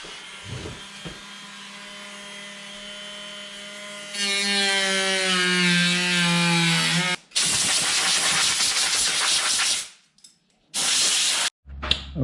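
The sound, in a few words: Dremel rotary tool cutting kitfox aircraft door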